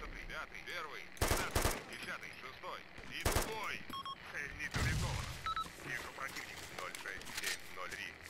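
Gunfire from a scoped weapon in the military video game Arma 2, a few loud bursts and single shots spread through the clip over game ambience, with someone talking throughout.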